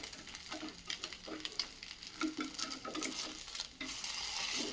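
Poha uttapam scented with kasuri methi sizzles quietly on a pan just after being flipped, a soft crackling fry with light patter and small scraping touches, faint and close with no talking.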